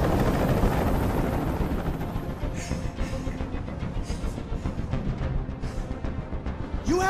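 A hovering helicopter in the video game Detroit: Become Human drones with a loud, constant rotor thrum throughout, its rhythmic chop steady and close, overlaid with brief electronic tones near the end.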